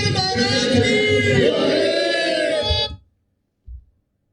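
Crowd of devotees and management committee members at Satlok Ashram chanting a slogan in unison, a loud, sustained massed roar of voices lasting about three seconds, then breaking off into silence with a brief low thump afterward.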